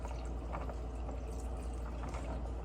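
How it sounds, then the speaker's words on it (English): Water poured into a cup to make Herbalife tea, a soft continuous splashing and gurgling stream at low level, steady from start to finish. "Add some water all the way up to the top."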